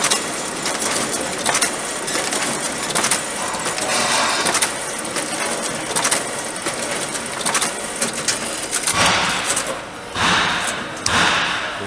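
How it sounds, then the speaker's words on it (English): Xerox DocuColor 242 office copier finisher jogging, stapling and punching paper: a continuous mechanical whir broken by repeated sharp thumps and clacks, with louder bursts of shuffling and punching toward the end. "It'll start coming out here, it jogs them together, and it'll staple and punch it."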